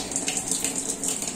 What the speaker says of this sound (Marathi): मशरूम धुवून देतोय